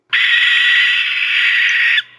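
A barn owl gives one long, harsh, hissing screech that holds steady for about two seconds and then stops abruptly. It is close and loud, with no other sound around it.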